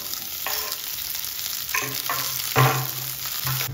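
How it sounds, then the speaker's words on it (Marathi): Onion and green chili sautéing in hot oil with mustard seeds in an Indian home kitchen: a steady close sizzle with several spoon-stirring scrapes and clatters, no voices. "आता कांदा आणि मिरची मस्त परतून झाली आहे."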